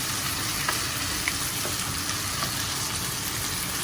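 Chicken and other ingredients sizzle and fry in a pan while being stirred, a steady, dense crackle with occasional scraping and clinking close by, and no talking.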